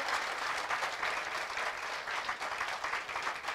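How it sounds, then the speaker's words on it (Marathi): Steady, dense applause from an audience at a lecture event on nature and people, continuous clapping at moderate distance with no pauses and no talk. "जर का अशी टाळी वाजवली ना तर ती जास्त चांगली असते"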